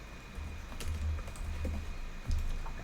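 Quick, light clicks of a computer keyboard as code is typed in Roblox Studio, in short close bursts with brief pauses, heard alone with no voices.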